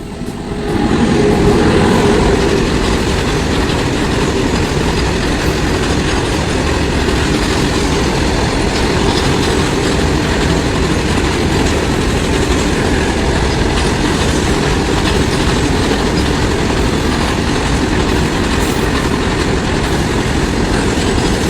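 A train rolls past at a railway crossing near Simdega on the way to Ranchi, making a loud continuous rumble with steady clickety-clack from the wheels that keeps up for about twenty seconds, close by and without talking.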